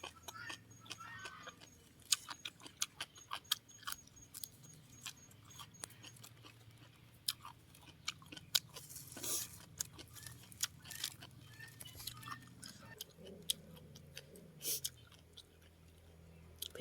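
Someone chews spicy Lao papaya salad close to the microphone, making soft, irregular crunches and mouth noises over a low background hum, fairly faint, with no talking.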